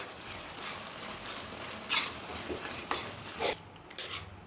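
A spoon mixing tamarind rice (pulihora) with tamarind paste in a pot makes soft, continuous scraping and stirring, with a few louder scrapes against the vessel every half second or so, close up and fairly quiet.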